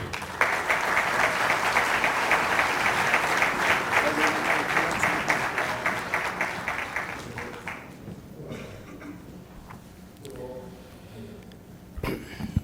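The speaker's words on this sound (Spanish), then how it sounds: "vamos a recibirlo, por favor, con un fuerte aplauso" A conference audience gives a strong round of applause welcoming a government secretary to the stage, dense clapping that holds steady for several seconds, then thins out and dies away into room noise.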